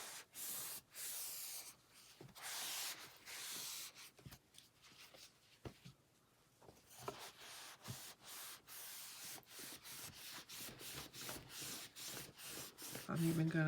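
Microfiber cloth wiping a board dry, repeated brisk rubbing strokes in short bursts with brief pauses between them, close and fairly quiet.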